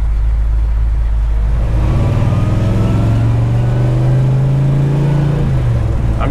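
A 1961 Pontiac Catalina with a 421 V8 and four-speed drives in second gear, its engine droning loudly and steadily with a rising, revving pitch and a deep rumble throughout.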